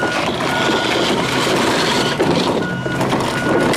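Truck or vehicle backing up, a steady repeating reversing beep heard over rumbling engine and street noise, fairly close, with no talking.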